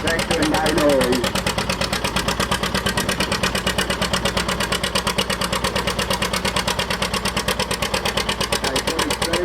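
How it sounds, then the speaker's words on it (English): A vintage tractor engine idles at very low revs at an outdoor tractor pull and machinery rally, a steady, even, rhythmic low chug throughout, with a voice talking over it early on. "there's hardly any revs at all on that tractor and no noise"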